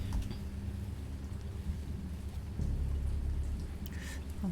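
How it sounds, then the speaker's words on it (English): Steady rain patters down while low thunder rumbles in the distance, heavier rumble partway through. "雨降ってんの。"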